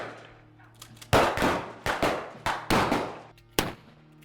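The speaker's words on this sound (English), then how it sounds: "A lot of gunfire, man." Gunfire effects in a staged show at an old homestead farm ring out as a burst of loud, close blasts, roughly seven or eight sharp reports with ringing tails, coming in irregular quick succession after a quieter lead-in.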